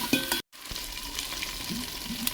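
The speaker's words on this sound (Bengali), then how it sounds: "বাটা মশলার সঙ্গে এঁচড়টা ভালোভাবে কষে নেব বা ভেজে নেব।" Young jackfruit being fried with ground spice paste for a vegetarian pulao, giving a steady close sizzle with scraping stirs and a brief dropout near the start.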